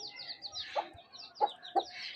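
Chinese chickens, a rooster and a hen, cluck softly several times in short, close calls over a quiet background.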